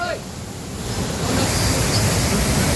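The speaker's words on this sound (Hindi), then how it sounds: "ये है भागसुनाक का झरना।" Bhagsunag waterfall pours in a loud, continuous rushing roar of water, heard up close with a steady broadband wash.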